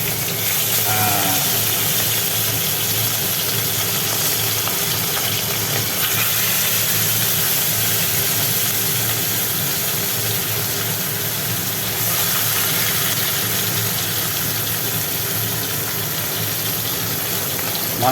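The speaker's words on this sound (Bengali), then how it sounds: "তেল গরম হয়ে গেছে এবার একটা একটা করে মাছ কড়ার মধ্যে" Fish frying in hot oil in a wok, a steady loud sizzling hiss that runs unbroken throughout, with no voices.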